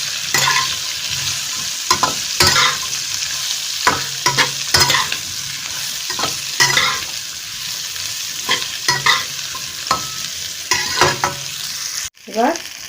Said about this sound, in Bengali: ফুলকপিগুলো দিয়ে দিলাম। দিয়ে একটু নেড়ে নিলাম।